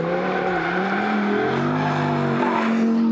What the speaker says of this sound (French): j'ai vraiment dû vachement transpirer pour essayer de m'offrir au moins un petit tête à queue